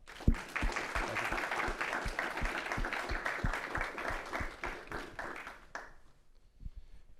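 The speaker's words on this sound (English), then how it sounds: "Please give our speakers a round of applause." An audience applauds at the close of a panel event on the transatlantic community, a fairly faint stretch of dense clapping with some louder individual claps, which fades away near the end.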